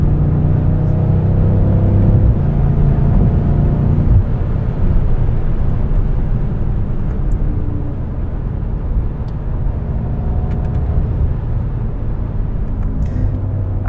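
BMW F90 M5 in manual mode with traction control off, accelerating hard with quick gear shifts: a loud, steady engine roar from the cabin, with pitch steps where the gearbox changes.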